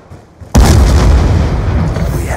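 A sticky grenade detonating in the multiplayer shooter Black Ops 2, one loud sudden boom after a quiet moment, followed by a long rumbling decay.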